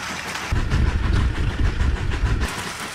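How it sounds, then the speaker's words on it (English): A LEGO toy train runs along its plastic track, passing beneath a car on added rails, producing a steady rattling rumble with rhythmic clicks that starts abruptly and stops after about two seconds. "what if we send the train underneath the car?"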